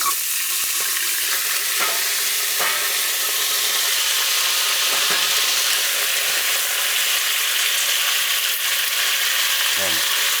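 Garlic cloves and turkey neck frying in hot oil in a pot for brown stewed turkey neck, a steady close sizzle throughout with occasional clinks of a utensil against the pot.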